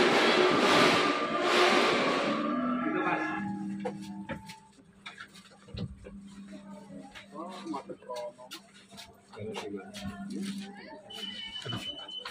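Inside a moving Lodaya premium passenger train in Indonesia: a loud rushing roar at first eases into a steady rumble with a low hum and repeated rhythmic clicks and clacks from the wheels on the rails.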